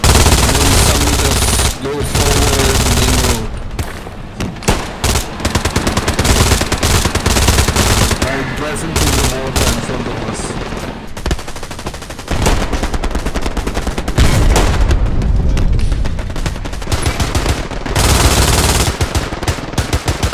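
In the World War II shooter Hell Let Loose, an MG42 machine gun fires long, loud, dense bursts of rapid shots from close by, separated by brief pauses, while a voice talks faintly underneath.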